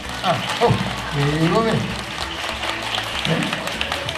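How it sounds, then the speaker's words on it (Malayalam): Audience clapping at a Kudumbashree community gathering in Nedumangad, a steady broadband patter running for several seconds beneath and between people talking. "ഇനി എല്ലാവരും ഒന്ന് കൈയടിച്ച് കൈയടി"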